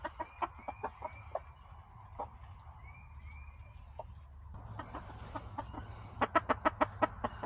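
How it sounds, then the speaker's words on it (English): Silkie rooster in a backyard flock clucking in short, close, repeated bursts that come in irregular clusters and bunch tightly near the end, over low ambient hum. "It's a nice looking rooster, isn't it?"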